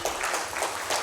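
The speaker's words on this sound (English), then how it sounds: "let's welcome him with a huge round of applause to the podium" Brief burst of audience applause at a Bengaluru investment summit as a speaker is welcomed to the podium, a short dense patter of clapping.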